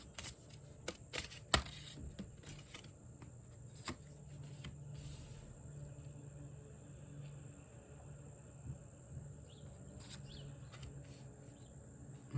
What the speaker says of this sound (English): Bear with me as I organize and place the cards.